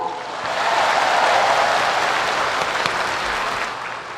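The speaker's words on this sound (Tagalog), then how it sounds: "Ay palakpak kung pwede." Applause from a large crowd at a political event in Batangas, a dense, sustained wash of clapping that swells and then slowly fades, heard alone without voices.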